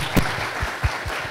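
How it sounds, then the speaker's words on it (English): Applause from a conference audience for the panelists, a soft, diffuse patter of many hands with a few louder low thumps, fairly quiet and brief. "Let's give them all a round of applause."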